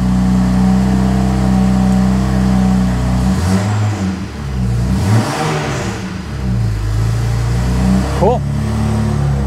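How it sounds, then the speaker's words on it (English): A BMW with the N54 engine cranks and fires up after a coolant bleed, idling steadily with brief blips of revving; a voice speaks briefly over the engine. "take the key out and then start it back up"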